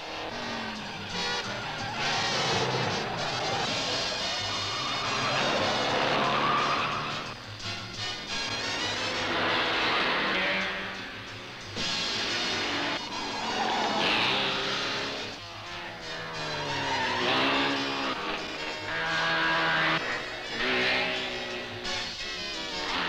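Racing cars roar past at the rain-soaked German Grand Prix on a 230 km course, engines rising and falling in repeated loud waves, with Porsche among the cars.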